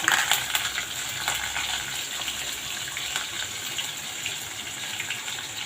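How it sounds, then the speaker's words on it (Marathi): Green chillies and curry leaves are dropped into hot oil with urad and chana dal for a South Indian-style tempering. The result is a steady, dense, close sizzle with a slightly stronger crackle at the start. "2 हिरव्या मिरच्या आणि कढीपत्ता टाकून घ्या"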